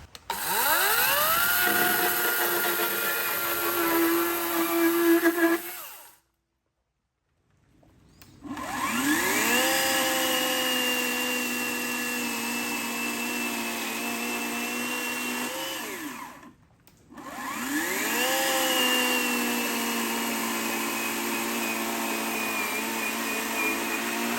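An Einhell cordless battery chainsaw cuts through a green tree trunk in three long, loud, steady whining passes, its motor pitch dipping under load, with two short silent pauses between cuts and no talking.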